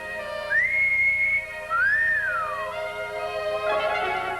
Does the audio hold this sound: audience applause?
no